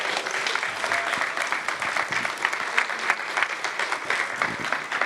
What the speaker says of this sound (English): can you please give our panel a massive round of applause?